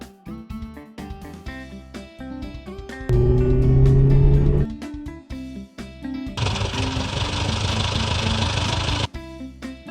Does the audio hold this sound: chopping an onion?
no